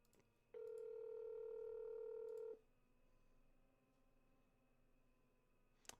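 A single long steady touch-tone beep from a telephone being dialed, loud and clean, lasting about two seconds, then a quiet room hum with no talking.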